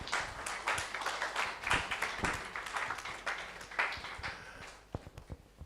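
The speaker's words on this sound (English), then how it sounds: "I think we can clap some more" An audience at a stakeholder forum on radon awareness claps steadily and fairly close by, and the clapping tapers off into a few isolated claps at the end.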